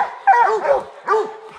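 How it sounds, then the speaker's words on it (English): Hunting hounds bay and bark loudly close by at a bear treed in the woods, two bursts of excited yelping barks with no talking. "as soon as the dogs found her, she went right up a tree"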